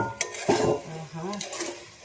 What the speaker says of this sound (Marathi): तर आपण ना आता झाकण काढून बघू